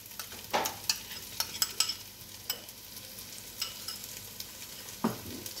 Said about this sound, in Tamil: இப்போ அதில் வந்து நம்ம எடுத்து வச்சுருக்க கர்ட் ஆட் பண்ணிக்கலாம்